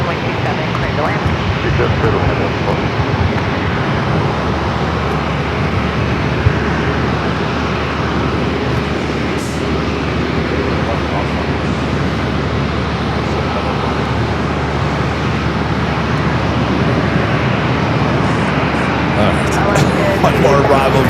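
A Delta airliner roars in to land on runway 27 at a busy airport, a steady, loud engine rumble and rushing noise that fills the whole stretch without letup.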